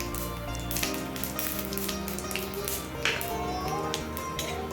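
Whole dry chilli, cumin, cinnamon and black pepper frying in hot oil for a rohu fish curry, a continuous sizzle and crackle with scattered pops, close up over a steady humming background.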